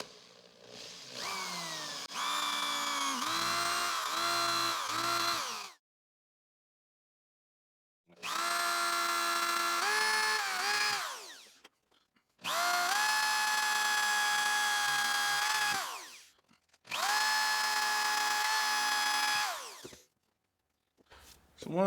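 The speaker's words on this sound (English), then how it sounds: "And what I'll do is I'll just drill it down through." A power drill whirs in four separate bursts as it drills through wood, its pitch rising and falling as it bites in, with short silences between.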